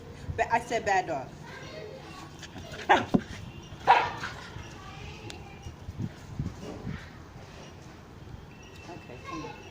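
Dogs bark and yip in a few sharp bursts, fairly close, over ongoing talk and background chatter.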